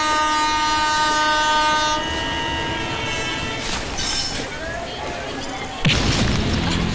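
A running train sounds a loud, sustained horn for about two seconds, then rumbles and rattles along the rails with rising noise toward the end.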